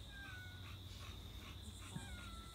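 A house cat gives soft, faint mews at a low level, a few brief calls scattered over a quiet indoor room with a steady hum, a bulldog puppy nearby.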